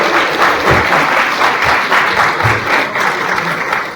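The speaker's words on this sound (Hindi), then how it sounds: "इनके लिए जोरदार ताली बजाएंगे।" Workshop audience at a one-day session on child rights and safety claps loudly and steadily, a dense sustained applause filling the room for the full stretch with no voices over it.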